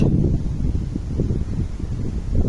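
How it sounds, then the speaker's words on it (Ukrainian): Gusty wind buffets the microphone in low, uneven rumbles, close and loud, with no voices. "Ох, вітер у нас."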